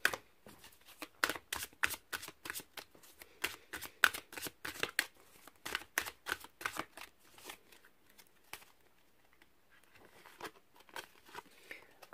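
A deck of tarot cards is riffled and shuffled over and over, quick soft flutters and taps in an uneven rhythm that thin out toward the end, quiet and close.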